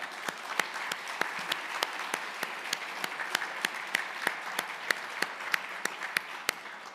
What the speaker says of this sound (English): We're all applauding, and they don't even know what you did yet.